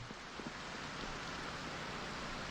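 Steady rainfall in the survival game Project Zomboid, a soft, even hiss of falling rain with no breaks or voices.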